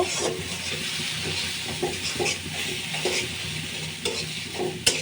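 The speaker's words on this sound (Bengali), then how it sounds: "টমেটোটা একটু মশলার সাথে কষিয়ে নেব ভালো করে মশলাটা কষিয়ে নেব" Tomato sautéed with spices in a pan gives a dense, hissing sizzle with repeated stirring scrapes at a close distance, steady and fairly loud, with no one talking.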